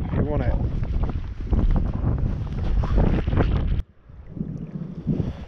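Loud, steady wind buffeting the microphone with a broad roar on a riverbank by the Thames at Radcot, dropping off abruptly near the end to a calmer outdoor background.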